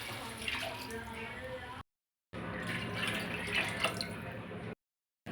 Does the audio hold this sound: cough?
no